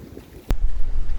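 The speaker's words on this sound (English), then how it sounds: "Well, the wind's picked up a bit more." Strong wind of around 25 to 30 knots gusts over a boat anchored in a sheltered bay, a sudden sharp buffet giving way to a heavy low rumble of wind noise.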